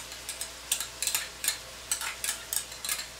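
Garlic cooks in a pan in a small home kitchen, added last to cheeseburger pasta: soft, irregular bursts of sizzling and spattering come close up, about a dozen quick crackles over a few seconds with no talk.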